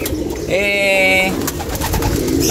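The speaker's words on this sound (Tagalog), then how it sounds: "madami pala nating ibon" Pigeons coo from a loft, one clear close drawn-out coo rising over a busy background of fluttering and other bird sounds, with faint voices nearby.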